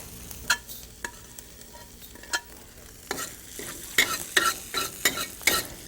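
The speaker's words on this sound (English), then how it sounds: "Next, add your cumin seeds." Cumin seeds sizzle as they sauté in hot oil while a utensil stirs the pan, producing quiet steady frying hiss broken by sharp scraping and clinking strokes that grow busier toward the end.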